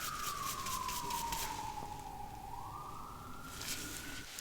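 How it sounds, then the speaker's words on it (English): Emergency vehicle siren wailing outside, sweeping down in pitch then rising again as it passes, moderately distant and steady over a quiet room. "Oh, there's the sirens."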